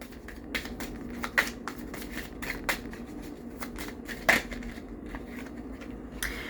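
Moonology oracle cards are shuffled by hand up close, giving quiet, intermittent papery riffles and soft slaps, with one sharper snap midway and no talking.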